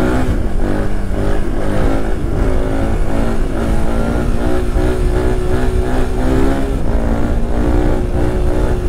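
Suzuki DR 350 enduro motorcycle revving hard in first gear, a loud, close single-cylinder engine roar with pulsing throttle surges throughout.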